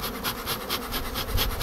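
Buckfast honey bees give a steady, rasping buzz with a faint pulsing rhythm, close and fairly quiet, for under two seconds.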